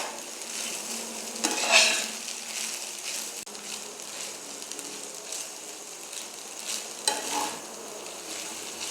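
Homemade chow mein with egg and shrimp is stir-fried in a pan, a steady close sizzle broken by a few scraping stirs of a utensil against the metal.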